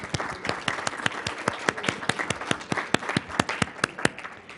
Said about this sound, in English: I'd like to invite all of you now in the audience and each other at the podium, give each other a round of applause.